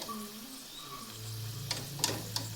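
Cabbage bajji fritters fry in hot oil with a faint, steady sizzle over a low hum, punctuated by a few soft crackles and clicks close by.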